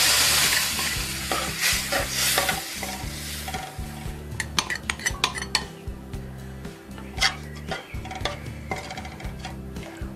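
Lentils go into a hot pan with turmeric and chilli powder and are stirred, a sizzle that starts loud and then settles under rhythmic clinks and scrapes of a metal spoon against the pan, close up.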